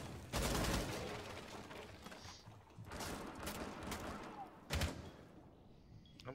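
Video game gunfire in bursts, loud and close, with sharp shots near the start, around three seconds and again near five seconds, over a busy rumbling background.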